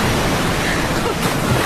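A river pours over a waterfall, a dense, continuous roar of crashing water that is loud and close throughout with no break.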